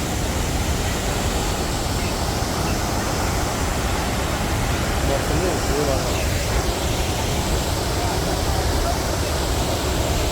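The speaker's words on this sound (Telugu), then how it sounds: "డైరెక్ట్ బాహుబలి వాటర్ ఫాల్స్ అంటారు ఇది." Athirappilly waterfall in Kerala roars in a dense, unbroken rush of falling water that fills the whole scene loudly and evenly, with no pauses or distinct events.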